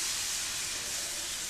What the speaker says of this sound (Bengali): তো এখন আমি এই আদা রসুনটা তেলের মধ্যে হালকা একটু ভেজে ভেজে দিচ্ছি।